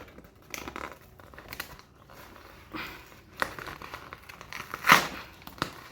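Packaging for a tripod and selfie stick being opened, with scattered crinkling and tearing rustles and a sharper crackle near the end, close and moderately loud, no talk.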